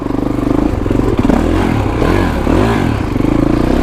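A 2021 Kawasaki KX450X dirt bike in first gear chugs loud and close along technical single track, its engine note surging and dropping in short throttle bursts with a steady thumping pulse.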